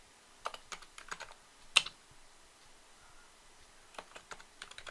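Terminal commands are typed on a computer keyboard in quick bursts of light, crisp keystrokes. A single sharper key hit falls near the middle, and a pause separates the bursts. The typing is close and quiet, with no voices.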